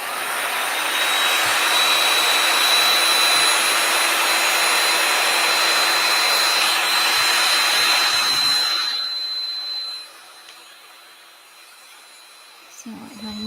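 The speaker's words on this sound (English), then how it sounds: "I'm just going to turn on my heat gun real quick and heat this up just to loosen up the glue" A heat gun warms glue to loosen it on a DIY rustic chalkboard pumpkin craft, giving a loud, steady blowing roar for about nine seconds before it cuts off to a quiet room hum.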